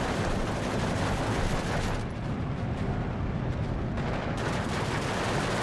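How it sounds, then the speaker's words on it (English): Artillery strikes in the wartime strategy game Steel Division 2: a steady, dense rumble of distant blasts and gunfire rolling on without pause, loud and continuous with no voices over it. "More artillery strikes coming in"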